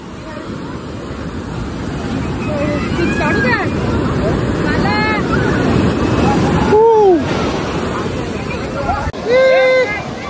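Sea waves wash and surge at a crowded beach under a thick babble of many voices, with loud nearby talk and shouts over the steady roar of surf.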